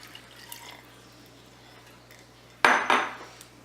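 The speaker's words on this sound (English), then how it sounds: "now that our butter is almost completely melted, we're going to add our white wine." White wine poured into a pan of nearly melted butter, a sudden sizzling hiss that bursts in late and then fades slightly, preceded by a quiet kitchen hum and faint clinks.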